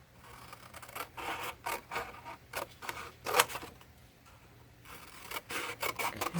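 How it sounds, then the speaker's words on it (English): Scissors snip repeatedly through a Christmas card printed with a holiday greeting, crafted alongside a vintage deer decoration; a close series of short, crisp rasping cuts runs at an uneven rhythm, with no one speaking. "I'm going to cut that out and use it."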